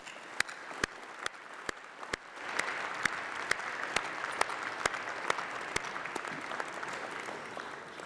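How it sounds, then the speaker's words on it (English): Applause at a university graduation ceremony: steady crowd clapping from a large hall, mid-level and continuous, swelling a little after the first few seconds and carrying on throughout with no talk over it. "Please join me. Big applause."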